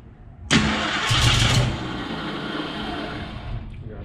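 A rebuilt Ford 289 V8 cranks and fires for the first time, a loud close burst of starter and engine noise that settles into a rough, steady run, with no voices over it.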